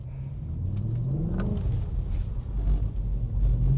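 A BMW E92 M3 with its big engine and traction control off accelerates hard, a loud, close, deep rumble climbing steadily in pitch with no talk.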